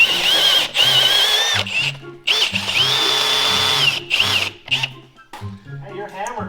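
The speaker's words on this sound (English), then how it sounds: "you're hammer drilling now." A hammer drill grinds in loud, sustained bursts with brief pauses between, punching into concrete while people talk nearby.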